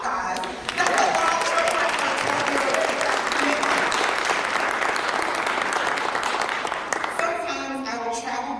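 A crowd at a Garifuna celebration at New York City Hall claps in sustained, even applause that stays loud for about seven seconds before thinning out, with voices heard at the start and end.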